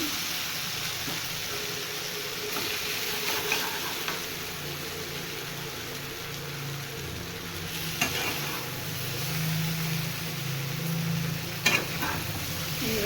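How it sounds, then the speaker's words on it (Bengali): A coconut and spice paste sizzles and fries in a pan while being stirred, a steady close crackle with occasional scraping knocks of the spoon and no talking. "এবারে নারিয়েলটা ভালো করে কষিয়ে নিলাম"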